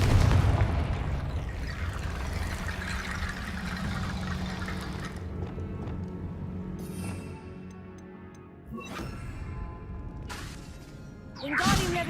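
Confringo fire spell in the Hogwarts Legacy game, a booming blast with whooshing bursts, then quieter game ambience broken by sharp pops and a final loud burst.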